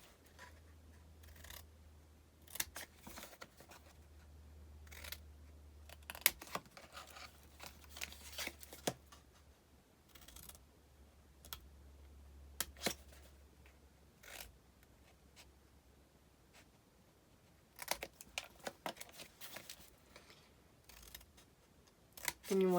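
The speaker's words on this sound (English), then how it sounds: "So I'm going to cut the corners out." Scissors snip out the corners of an album cover base in many short, crisp cuts scattered through a quiet room, some in quick clusters, with faint handling rustle between them.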